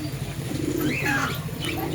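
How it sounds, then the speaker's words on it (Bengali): Pigeons cooing at a pet and aquarium shop, soft low rolling coos over a busy background murmur, fairly close and repeated through the moment. "অনেক পায়রা এসছে"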